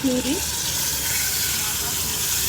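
Tomato puree frying in a pan with ginger-garlic paste and curry leaves, a steady loud sizzle throughout, with a brief voice at the very start.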